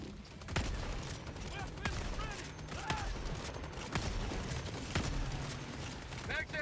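Steady gunfire in a Helldivers 2 battle, with repeated sharp shots and bursts rolling through the whole stretch at a moderate distance, mixed with mechanical clatter and voices talking over the combat.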